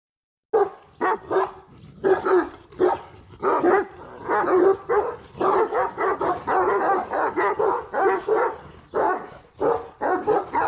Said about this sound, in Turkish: Köpeklerden birisi boyun eğene kadar bu havlamalar devam edecektir.